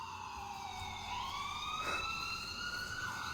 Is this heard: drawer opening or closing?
no